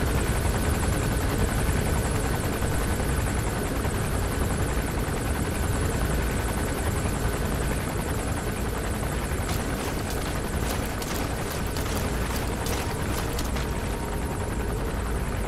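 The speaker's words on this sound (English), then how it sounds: "That chopper on the other side though." Helicopter in a stealth video game, its steady rotor drone loud and continuous throughout, with faint engine whine on top and no talking.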